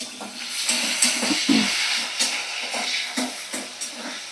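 Onion and capsicum sizzle and hiss in a pan for pasta, with soft, repeated stirring scrapes at a steady, close-up level.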